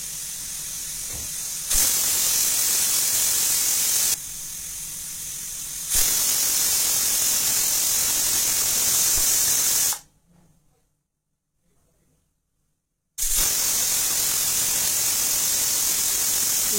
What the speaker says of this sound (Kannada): ನೆಕ್ಸ್ಟು ಕುಕ್ಕರ್ ಮುಚ್ಚಳ ಮುಚ್ಚಿಬಿಟ್ಟು 3 ವಿಷಲ್ ಮಾಡಿಸ್ಬೇಕಾಗುತ್ತೆ.